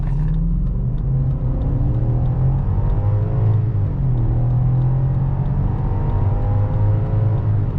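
A remapped 309 hp BMW X5 E53 4.4i V8 accelerates at full throttle on a highway, heard from inside the cabin. The engine drone is loud and continuous, and its pitch climbs steadily as the revs rise and the gears shift.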